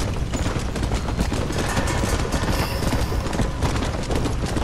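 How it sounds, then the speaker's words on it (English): Horse hooves clip-clopping in Red Dead Redemption: Undead Nightmare, a steady galloping rhythm of close thuds running continuously under dense ambient game noise. "Where did my horse go? Come here, War."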